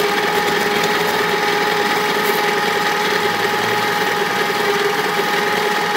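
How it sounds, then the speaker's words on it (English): A mini lathe runs with a steady whirring hum while a soft sanding sponge block sands against the spinning piece, a constant buzzy texture with no pauses. "Just using a sanding soft sponge block to kind of polish it up."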